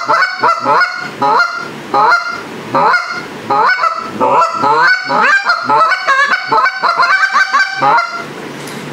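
A Mr. Big goose call fitted with gray guts is blown in quick, rhythmic series of loud honks and clucks, sharp repeated goose-like notes close up with brief pauses between bursts.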